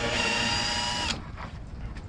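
A cordless power driver whines steadily at close range for about a second as it backs out a screw during automotive wiring work, then cuts off, leaving quiet handling noise.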